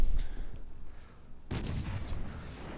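Heavy naval guns of the battleship HMS Warspite boom in a salvo in a video game, a deep broadband blast landing midway after a low rumbling lull, loud and close, with no talk.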